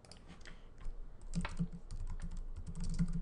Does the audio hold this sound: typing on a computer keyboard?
yes